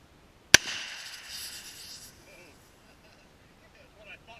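A single sharp gunshot cracks at an outdoor shooting range, followed by a fading echo and faint scattered sounds afterward.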